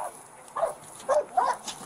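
A dog barks angrily in short bursts beside a police traffic stop, four sharp barks spaced about half a second apart, moderately close over a faint background hum.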